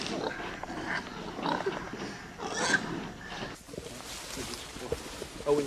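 Pigs during a special forces training event, heard under loud talking and commotion, with grunting and squealing that carries on throughout.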